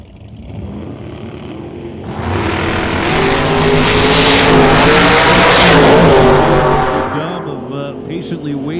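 A Chevrolet Chevelle drag car sits on the starting line at an old-time drag meet, its engine revving loud and close, climbing to a sustained roar before easing off while an announcer talks.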